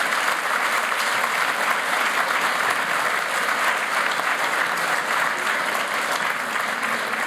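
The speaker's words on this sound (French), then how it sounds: "Je pense qu'on peut applaudir les panélistes." At a conference forum session, the audience applauds the panelists of a round-table discussion, giving even, continuous clapping for several seconds with no voices over it.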